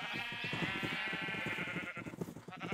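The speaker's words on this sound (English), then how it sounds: "That's a lot of sheep." A flock of sheep in the video game Minecraft, overlapping bleats repeating rapidly and fairly loud, forming a continuous chorus of game animal calls.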